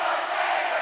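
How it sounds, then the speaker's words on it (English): Crowd noise at a high school boys' or girls' basketball game between Greenwood and Warren Central, a dense, loud, steady roar of many voices filling the gym without a break. "Crowd is getting loud here."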